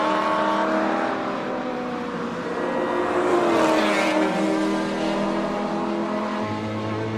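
Reynard Formula VW race car at the Simola hillclimb, its engine revving hard with shifting pitch as it climbs and drops, loud and sustained over several seconds, heard without talk.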